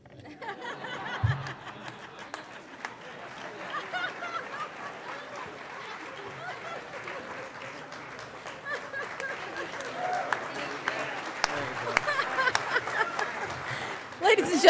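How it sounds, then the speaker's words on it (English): Banquet guests applaud in a steady, dense wash of clapping that builds slightly toward the end, with some chuckles and talk mixed into the crowd noise. "give them a big round of applause for that ginormous check"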